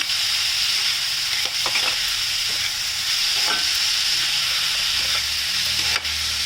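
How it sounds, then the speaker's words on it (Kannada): Vegetables with ginger frying in a pan for a vegetable puff filling, producing a continuous bright sizzle with a few stirring clinks and scrapes, close and steady, no voices. "ಇದೆಲ್ಲ ಸ್ವಲ್ಪ ಫ್ರೈ ಆಗ್ತಿದೆ ಅನ್ನೋವಾಗ ನಾನು ಇದಕ್ಕೆ ಶುಂಠಿ ಹಾಕ್ತಾಯಿದ್ದೀನಿ"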